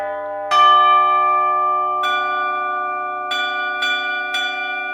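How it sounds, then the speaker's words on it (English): Soniccouture tubular bells sample instrument strikes five resonant, ringing chime notes in sequence, each with a bright attack and long sustaining metallic decay overlapping the last. "I use these tubular bells in everything"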